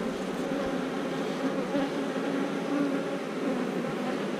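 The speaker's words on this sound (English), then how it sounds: "Look at the bees in this thing." Honeybees hum densely over a crowded brood frame pulled from a productive hive colony, a steady close-up buzzing drone with faint individual wing whines rising and fading, no voices.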